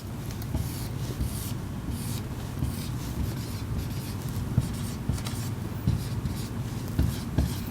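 A pen scratches steadily across paper while drawing an equilibrium graph for an economics lesson, a close, continuous rasp with small strokes and taps and no talking.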